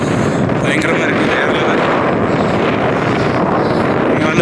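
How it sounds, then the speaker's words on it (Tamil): Strong, cool wind buffets the microphone in loud continuous rumbling gusts that fill the whole moment, with no voices over it. "காற்று சில்லுன்னு அடிக்குது மக்களே, பயங்கரமாக இருக்குது."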